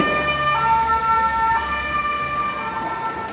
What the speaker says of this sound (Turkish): Sivil polis araçları da geçiyor sirenlerle.